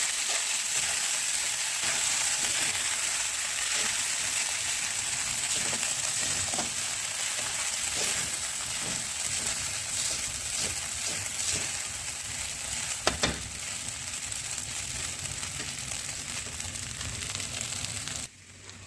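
Sago pearls fry in a hot pan for sabbakki uppittu, a continuous close sizzle with repeated scraping and stirring strokes of a spoon throughout, and no voices.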